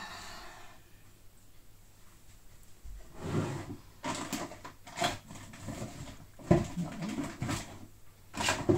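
Household drawers and cupboards opened and shut during a search at home, a series of soft sliding knocks and thumps spaced irregularly, fairly close and quiet.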